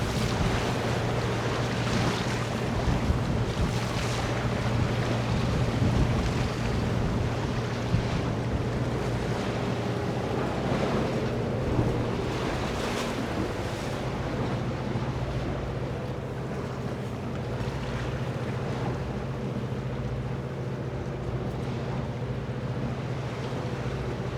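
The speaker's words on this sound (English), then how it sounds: "But gusting, pretty good gust now too." Strong gusting wind buffets a fishing boat at sea off Alaska, a dense, constant roar of wind and surf with rushing bursts and no voices.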